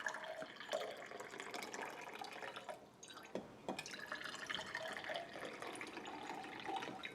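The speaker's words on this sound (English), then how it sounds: "The melted ice is represented by the amount of water that's poured in each glass." Melted ice water poured from insulated tumblers into glasses, a steady trickling and splashing of liquid with drips, continuous and fairly close with no talk.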